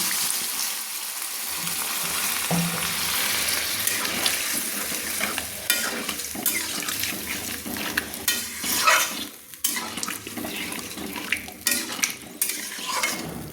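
Small new potatoes frying in a kadai hiss and sizzle as water is poured in, with steady loud bubbling and occasional stirring and utensil clinks throughout, no voices.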